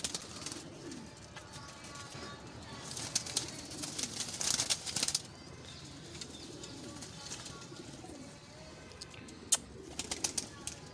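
Teddy Kamagar Golden Zeeray pigeons coo softly and flap their wings, with intermittent wingbeats and low cooing against a steady background hum, interrupted by a few sharp clicks.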